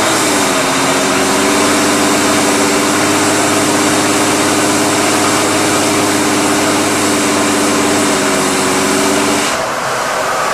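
A car engine with a suspected restricted exhaust runs steadily at idle, a loud continuous droning rumble with a wavering low pulse that holds for about nine seconds, then dips slightly near the end.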